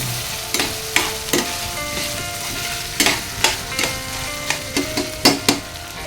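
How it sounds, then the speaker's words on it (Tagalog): Ground meat and hotdog sautéing in a pan, a steady sizzle broken by repeated scraping stirs from a utensil, close and fairly loud. "Gisa-gisa na yung ating giniling at hotdog."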